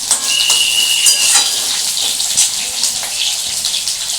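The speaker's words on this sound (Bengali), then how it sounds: "এই আলুগুলো এখন আমি একটু ভালো করে ভাজবো।" Potatoes with nigella seeds frying in a pan, a loud, steady close-up sizzle with a broad hissing wash and occasional small pops throughout.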